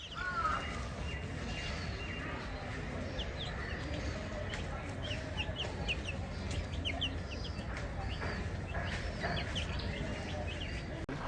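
Chickens at a village house cluck softly and fairly far off, scattered calls over a quiet outdoor background with faint bird chirps.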